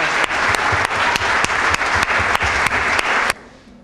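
An audience applauds at a school council swearing-in ceremony, steady close clapping with a few sharp accents lasting about three seconds before stopping abruptly into quiet room tone.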